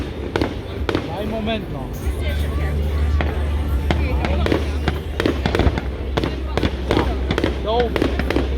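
Fireworks at the Inselfest in Krakow am See go off as repeated sharp bangs and crackling bursts, steady throughout, with a crowd murmuring and people talking nearby.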